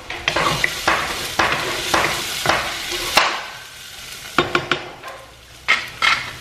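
Onions fry in a pan with a steady crackling sizzle, broken by repeated sharp scrapes and clacks of a utensil stirring against the pan, close and fairly loud.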